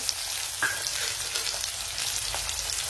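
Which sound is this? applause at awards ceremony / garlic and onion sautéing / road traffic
garlic and onion sautéing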